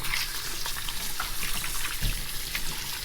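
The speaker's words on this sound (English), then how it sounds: "So next I'm going to wash the snails." Snails being washed in water with lemon: steady splashing and running-water noise with small sloshes and clatters throughout, close and continuous, with no voices.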